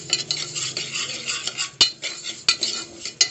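Lentils dry-roasting in a pan on the stove, stirred with a utensil that scrapes and clinks against the metal in a steady rhythm, with a few sharper knocks, loud and close and with no one talking.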